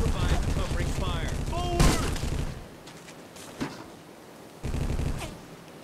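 Covering gunfire in the Vietcong Vietnam War video game rattles in dense bursts with one sharp crack, drops to a quieter stretch with a lone shot, then picks up again, loud and close, with talking mixed in.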